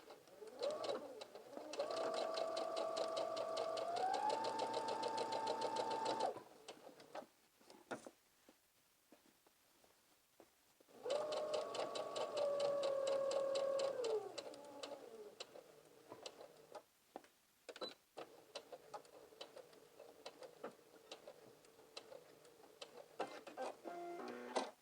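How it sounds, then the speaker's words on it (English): A sewing machine runs in two fast, rhythmic bursts of stitching, its motor whirring at a steady pace and then slowing, with quiet clicks and handling noises between runs. "we're going to go to the sewing machine, and we're going to sew a straight stitch"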